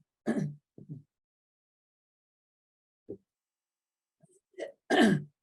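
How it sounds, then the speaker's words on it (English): A throat being cleared in short rough bursts, with a few small vocal noises between, then a louder harsh clearing at the end; quiet pauses in between. "Take time, clear your throat."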